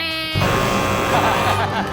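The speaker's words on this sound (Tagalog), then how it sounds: "Inunahan mo yung buzzer natin eh." A game show buzzer on a Philippine Family Feud episode sounds a steady, harsh electronic buzz that opens alone, then carries on beneath a sudden burst of loud studio crowd noise and overlapping voices.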